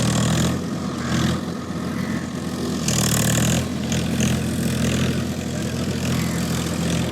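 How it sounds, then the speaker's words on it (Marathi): A large tractor engine drones steadily as the tractor pulls into a deep muddy village farm field. The loud, continuous rumble has slight rises and falls, and no voices are heard. "तर हा ट्रॅक्टर आता आला इकडे."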